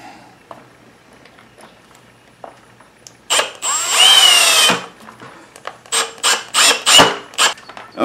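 A power drill drives a long 6-inch bit through a Kreg 720 pocket hole jig, starting with a loud sustained whirring run, then several short bursts and stops, with light tool handling clicks before.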